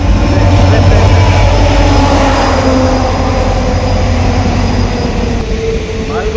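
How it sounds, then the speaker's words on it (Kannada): Talaguppa–Mysore passenger train pulling into Arasalu railway station, a loud steady low rumble of the rolling train close by that eases slightly toward the end. "ರೈಲು ಬಂದು ನಿಲ್ತಾ ಇದೆ"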